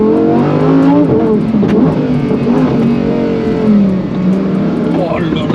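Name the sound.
Lamborghini Huracan STO engine revving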